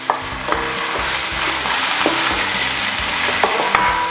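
Garlic, added generously for a chili garlic crab and shrimp dish, sizzles and fries steadily in a hot pan, with occasional stirring clatters and scrapes rising above the continuous crackle.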